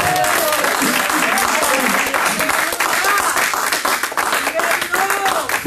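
Congregation applauding in a church service, a dense, loud, sustained burst of clapping filling the whole stretch, with voices and singing tones faintly mixed underneath.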